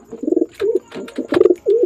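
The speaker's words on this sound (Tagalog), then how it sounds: "So kukunin ko na si Brown mga kalapatids." A racing pigeon coos close up in several short, throaty rolling phrases, repeated in quick succession with brief gaps.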